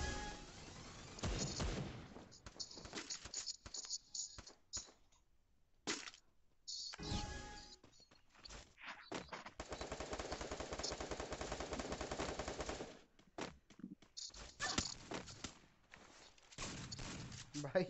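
Gunfire in the mobile battle royale game Free Fire, with dense bursts of automatic weapon shots and rapid firing filling most of the stretch, broken by brief gaps, loud and close.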